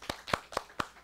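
Applause at the end of a round in an elementary-school reading debate contest: five sharp, evenly spaced claps from a single pair of hands, quiet and close.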